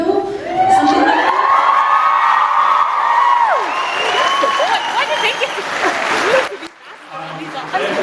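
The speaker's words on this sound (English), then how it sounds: "So I think we should give another round of applause because Misha agreed to come here." A convention audience applauds Misha Collins at Edmonton Expo 2012, dense clapping with cheers and whoops from a large crowd filling an indoor hall, loud and sustained before tapering off.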